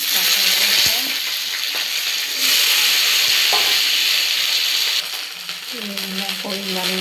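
Sliced okra fries in hot oil with a dry red chili, whole cumin, green chilies, turmeric and salt, giving a steady loud sizzle and hiss with a few metallic clinks of a spatula.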